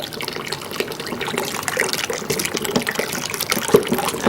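Liquid soap mixture with soda ash being stirred, a steady wet swishing and sloshing of liquid that carries on continuously without speech.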